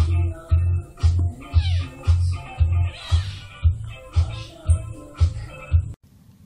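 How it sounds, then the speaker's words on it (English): A cat meows in a steady series of about ten loud, close cries at a regular rhythm, alone with no talk over it. "So, I asked my cat to give me her best impression of Kim Kardashian."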